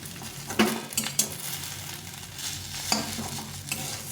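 Eggs for an omelette fry in a pan while being stirred, giving a steady close sizzle broken by a few sharp clinks and scrapes of a utensil against the pan.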